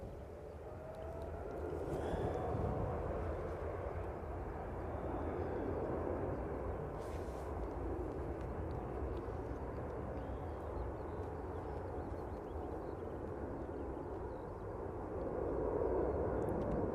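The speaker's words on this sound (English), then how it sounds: "Right, Etihad's lined up, ready to go." Etihad airliner taking off at Manchester Airport, a low sustained jet engine roar that swells and holds at a distance, rising again toward the end.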